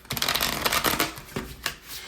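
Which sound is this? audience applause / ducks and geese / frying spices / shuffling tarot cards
shuffling tarot cards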